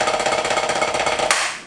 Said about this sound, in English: the drop catch technique, which is often used to employ double strokes or the open stroke roll